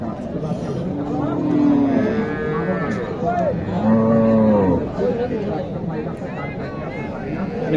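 Cattle bellow with two long, loud moos at a busy rural cattle market for Sahiwal and improved breeds, heard up close over constant crowd chatter and people talking.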